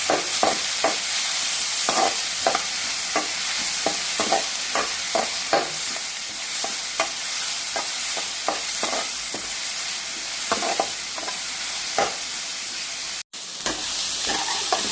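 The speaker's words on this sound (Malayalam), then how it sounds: "നല്ലപോലെ ഇളക്കാം." Dried chili and curry leaves frying in a pan, stirred with steady scraping strokes over a continuous bright sizzle, close and loud, with a brief dropout near the end.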